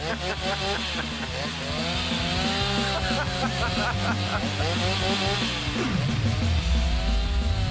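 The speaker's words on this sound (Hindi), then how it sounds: "चेन सो अब इसको हटाते हैं" A chainsaw whines loudly and continuously, its pitch sagging and rising as it bites into layered cardboard, with a voice briefly audible beneath.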